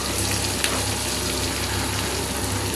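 Ginger, garlic and onion pieces fry in melted butter, giving a dense, even crackle and hiss that stays close and steady throughout.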